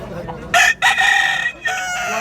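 A bullstag rooster crows loudly and close by, a long multi-part call with a brief break in the middle, standing alone without talk.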